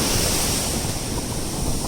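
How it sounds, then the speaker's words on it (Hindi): Loud, continuous roar of ocean surf washing against the shore, dense and steady with wind buffeting the microphone throughout. "मेरे पीछे समुद्र का लुत्फ़ भी लेते रहिए।"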